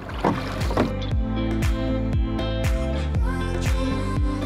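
Rhythmic creaks and knocks of oars working a small rowboat on Lake Bled repeat at a steady pace, with water and a low background hum.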